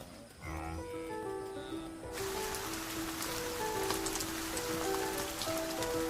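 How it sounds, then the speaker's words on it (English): Steady rain falls on the open plains of Zambia, a dense close patter of drops on surfaces that swells fuller after a couple of seconds and continues without pause. "The rains are now in full flow, and the landscape completes its transformation."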